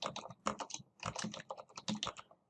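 Rapid, uneven clicks of fingers typing a name on a computer keyboard, in short bursts with brief pauses, close and fairly quiet.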